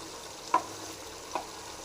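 Coconut milk simmers gently in a pan, reducing until oil separates, with a couple of soft pops, steady and close, no voices.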